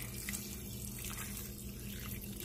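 Water streams steadily from a tap into a cup, a continuous splashing hiss with no pauses, close by and moderately quiet.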